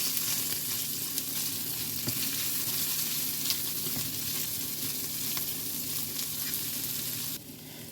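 Chicken seasoned with garlic and herbs fries in a pan, giving a steady, close crackling sizzle with no voices that runs almost the whole time and drops off slightly at the very end.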